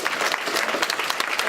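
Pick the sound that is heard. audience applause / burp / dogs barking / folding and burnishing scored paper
audience applause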